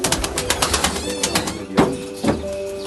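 Pigeons in a loft, including smoky blue and white birds with squabs, give low soft coos over a busy background of rapid fluttering and rustling, with a couple of louder thumps near the end; no talking.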